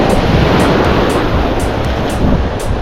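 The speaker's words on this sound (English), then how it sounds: "where the waves are kind of crashing" Ocean waves crash and churn at Lido Beach, a loud continuous roar of surf with rhythmic bursts of spray, heard up close with some wind buffeting the microphone and no talking.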